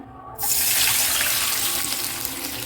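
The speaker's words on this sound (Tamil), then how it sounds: "நான் இப்போ பாலை ஃபஸ்ட்டு ஊற்றிடுறேன்" Milk is poured from a cup into a pan while making aval kesari, a sudden steady liquid pour that starts after a brief moment and runs loud and close without a break.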